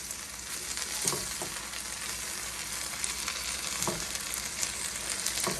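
Food browns in a pan, a steady close sizzle of frying broken by several soft scrapes and taps of a spatula stirring and turning it.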